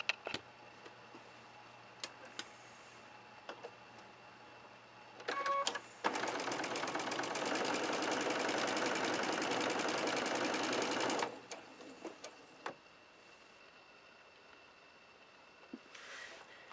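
A sewing machine stitches quilt blocks in one steady whirring run of about five seconds, preceded and followed by scattered clicks, taps and small handling noises of fabric and pins at close range.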